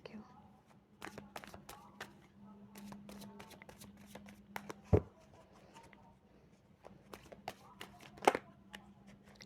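Playing cards shuffled and bouncing out of the deck in a run of quick riffling bursts, fairly close and crisp, with a couple of louder snaps and quiet pauses between.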